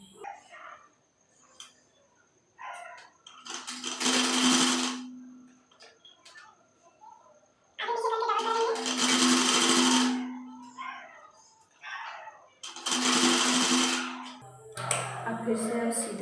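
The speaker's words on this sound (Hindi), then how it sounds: "इसको उठाएंगे, ऐसे घुमाएंगे और इस पर सीधा सिलाई लगा देंगे।" Sewing machine stitching a kurti in three long runs of rapid whirring, each a few seconds long, separated by quieter pauses with light handling noises between runs.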